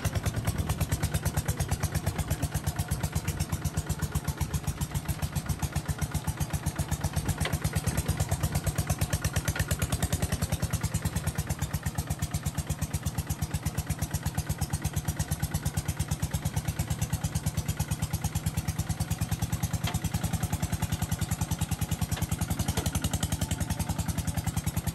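Japanese walking tractor engines run steadily in Vietnam, a continuous rapid single-cylinder clatter holding close and loud for the whole stretch, with no talk.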